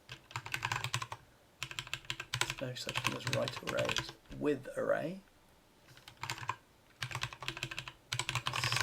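Bursts of rapid typing on a computer keyboard as code is written, the key clicks close and continuous, broken by short pauses while someone talks in between.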